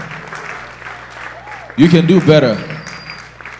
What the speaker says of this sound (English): A resounding round of applause for Mr. Bankole Williams.